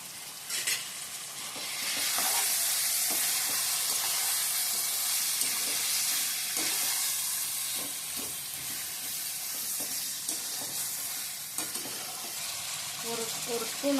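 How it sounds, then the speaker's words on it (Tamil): Four quail with turmeric sauté in a pan, giving off a steady, close sizzle and hiss with occasional stirring scrapes and no voices. "ஒரு 4 காடை வாங்கி கழுவி வச்சுக்கணும். கொஞ்சம் மஞ்சள் தூள் சேர்த்து நல்லா ஒரு வதக்கணும்."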